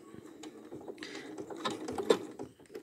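A Janome Skyline sewing machine runs a blind hem stitch, giving soft mechanical clicking and whirring in short uneven bursts at low level, heard close and alone.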